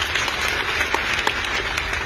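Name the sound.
audience applauding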